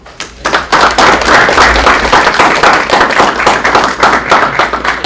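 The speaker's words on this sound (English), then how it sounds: "let's welcome him with a warm round of applause" Audience clapping at a psychology guest speaker event, rising quickly into loud, dense, continuous applause close by, with no talking over it.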